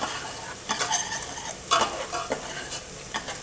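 Mushrooms lightly roasting in a pan give a soft sizzle, broken by irregular scraping and stirring knocks of a utensil against the pan, close up and without talk.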